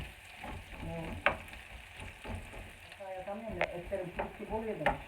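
Onions with a pinch of salt frying in hot oil for a spinach and egg dish, a steady close sizzle with stirring scrapes, and a voice speaking over it intermittently.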